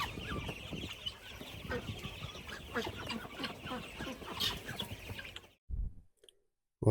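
Chickens at a market cluck and squawk in quick irregular bursts close by for several seconds before the sound cuts out into near silence.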